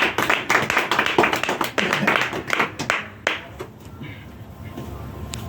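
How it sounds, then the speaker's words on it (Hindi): Audience clapping at an online marketing seminar, a burst of loud sharp claps from a modest group that thins into scattered, fading claps after about three seconds. "तो मैं चाहता हूँ आप सभी के लिए एक बार जोरदार तालियां"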